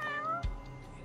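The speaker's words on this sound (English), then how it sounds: "I can hear the cat." A single drawn-out cat meow, close and clear, followed by a dull thump and low background noise.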